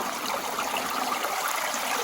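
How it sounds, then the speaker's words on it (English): Spring water runs from a pipe on a Big Sur backpacking trail in the Silver Peak Wilderness, a close, steady splashing stream with a bright, continuous hiss and no talking. "they've even piped it so that you can fill a bottle there"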